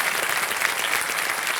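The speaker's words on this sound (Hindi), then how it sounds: "तो इनका स्वागत एक बार कर देते हैं तालियों के साथ।" Studio audience applause on a televised quiz show set, welcoming a contestant with steady, dense clapping throughout, loud and unbroken with no voices over it.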